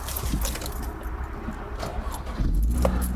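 An MG car engine turns over and catches near the end, the low rumble swelling after a stretch of quieter clatter and jangling keys close by.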